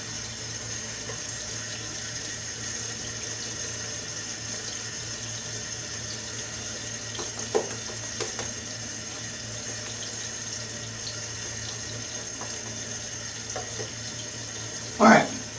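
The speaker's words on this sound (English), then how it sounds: "Put some more water on my face." Tap water runs steadily from a bathroom sink during a wet shave, with brief splashes as water is scooped onto the face, and a louder splash near the end.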